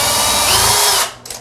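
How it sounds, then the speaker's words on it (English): A power drill with a coat hanger bit boring straight up through a ceiling into the attic, loud and steady whine for about a second before cutting off sharply. "he's just going to drill straight up where you want to put the box"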